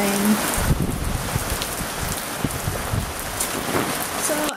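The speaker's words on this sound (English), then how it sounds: "There's a little bit of rain." Light rain falls outdoors in Norway, a soft continuous patter with scattered louder drops close by and a faint low rumble beneath.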